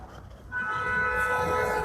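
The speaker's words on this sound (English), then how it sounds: "We got a honk fest going on." Car horns blare at an airport plaza in Liberia, Costa Rica, a loud sustained honking that starts abruptly after a quiet moment and keeps going with overlapping tones.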